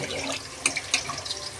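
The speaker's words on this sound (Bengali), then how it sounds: "আর এদিকে চালটাকে ঝরাবো, একটু বাড়ি চালটাকে ঝরিয়ে দেবো।" Tap water running into a sink as washed rice is drained, a steady wash of flow with a few brief splashy bursts partway through, fairly faint and with no talking.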